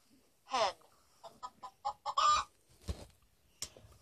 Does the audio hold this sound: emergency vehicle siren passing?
no